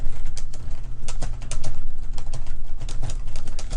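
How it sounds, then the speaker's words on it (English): Fast typing on a computer keyboard, a quick irregular run of close, crisp key clicks over a low steady hum, with no speech. "I'm just going to kind of just type a bunch of stuff in here."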